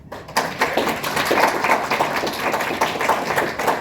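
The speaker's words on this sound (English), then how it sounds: "You can give a round of applause, please." Audience applause at a convention closing ceremony held in a hotel: dense, steady clapping from a crowd that starts abruptly after a short pause and continues at an even level throughout.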